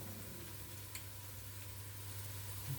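Collard greens seasoned with salt, garlic and onions being stirred in a pot, a soft steady sizzle with faint scraping, close and quiet over a low hum, no talking.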